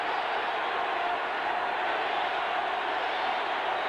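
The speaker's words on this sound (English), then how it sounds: "here comes the cheers from the Charger fans" Charger fans cheer in a San Diego stadium at a 1987 NFL game against the Broncos, a steady, distant roar of crowd noise that holds level throughout.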